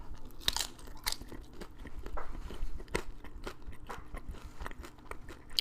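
Crunchy kimchi nachos topped with sour cream are bitten and chewed close to the mic, a run of sharp crisp crunches and wet chewing in irregular bursts, with no talk.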